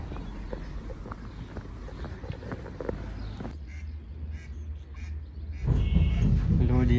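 Ducks with ducklings by a lake give a few quacks amid busy outdoor noise. A loud low rumble swells near the end.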